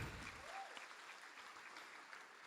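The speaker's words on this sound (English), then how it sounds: "So please give a big round of applause to our Applephenon jelly stick." Audience applause at a promotional presentation for the Atomy Applephenon apple jelly stick, a steady wash of many hands clapping that fills the whole stretch at moderate distance, faint and without voices.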